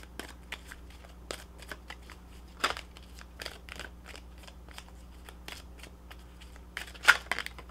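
Tarot cards shuffled by hand, a close, quiet run of crisp riffling snaps and flutters in irregular bursts, with one louder slap near the end and no talk.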